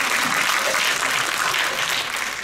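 Steady, dense applause from an audience at a premiere event for a drama series, a continuous wash of clapping held at constant loudness throughout.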